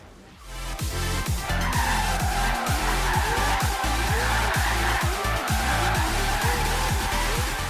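A 4-rotor Mazda Miata drifts in Forza Horizon 3, its high-revving engine wailing and bouncing off the limiter while tires squeal continuously, loud and close throughout after a brief quiet start.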